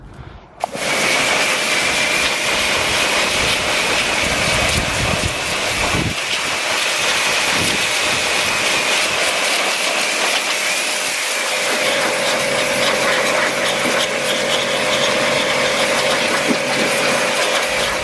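A pressure washer blasts loose debris off car brake calipers, a loud, steady roaring spray with a droning pump tone that runs continuously and close for the whole stretch.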